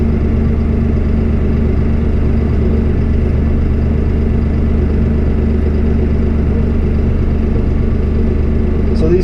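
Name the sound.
Farmall 55 tractor engine creeping forward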